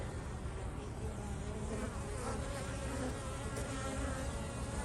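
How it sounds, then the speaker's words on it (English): Dense, continuous buzzing of many honeybees close by at a hive in an urban garden at dusk, a steady droning hum that holds for several seconds. "the bees are all starting to go into the hive to keep warm for the night"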